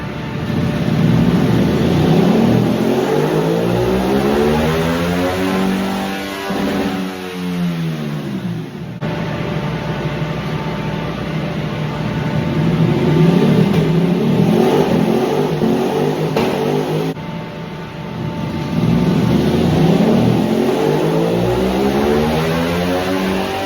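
A 2025 Ducati V2 Streetfighter motorcycle with a stock air filter, revving hard through repeated rising and falling sweeps during dyno tuning. It is loud and close, with no talk.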